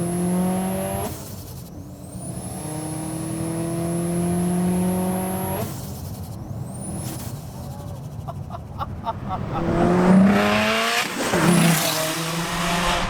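A big-turbo, roughly 400 hp Subaru STI pulls hard at full throttle in third gear from about 4,000 rpm, its engine note rising steadily and loudly, with a voice talking over it.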